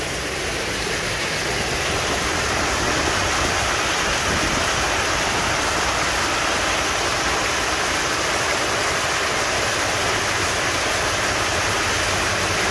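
A loud, constant rushing of water and machinery drones on without a break, steady and close, as a pump on a river boat forces a heavy flow of sand and water to fill a house foundation.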